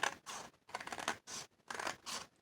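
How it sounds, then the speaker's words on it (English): Scissors cut through paper for a junk journal, close, in several quick bursts of snipping with short pauses between them. "I'm going to go ahead and cut right along here."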